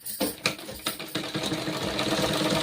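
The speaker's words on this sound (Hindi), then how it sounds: "इसी के ऊपर सटा के सिलाई करनी है बराबर से" A sewing machine stitching cotton kurti fabric starts with a few separate thumps, then settles into a steady rapid whirring stitch, close and clear with no talking.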